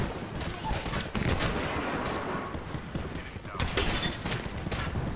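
Rapid gunfire from a weapon in a video game, dense bursts of sharp shots in two clusters with brief lulls, loud and close.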